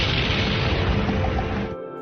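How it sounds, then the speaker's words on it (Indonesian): A sustained, deep explosive roar of the Krakatau volcanic eruption, loud and continuous for most of the moment before cutting off abruptly, with no voices present. "dahsyatnya ledakan itu membuat telinga mereka berdengung."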